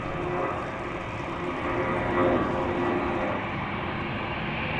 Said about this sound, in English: Loud noises coming from the center runway, another narrow body taking to the sky.